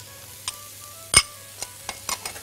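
Shepherd's pie filling with stock cube, thyme and rosemary is stirred in a pan. A faint sizzle sits under soft scraping and a few sharp clinks of a utensil against the pan.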